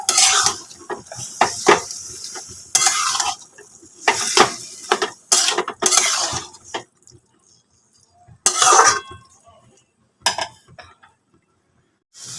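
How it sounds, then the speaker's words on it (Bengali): A utensil stirs taro leaves with spices in a metal pan, giving irregular scraping and clinking strokes in short clusters separated by brief pauses. "খুব ভালোভাবে কিন্তু মিশিয়ে নিতে হবে মশলার সাথে কচুর শাকটা"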